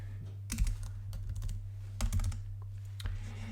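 Fingers typing on a computer keyboard: a few small clusters of quick, light key clicks over a low steady hum.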